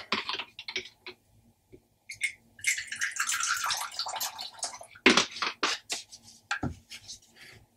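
Water is poured into the water bowl of a Japanese funnel-web spider enclosure during rehousing, giving irregular close splashes and trickles that swell into a longer pour, then stop and start again in short bursts.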